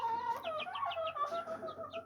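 Chicks and hens cluck and peep in short repeated bursts at a Thai fighting-chicken farm, close and steady with no talking.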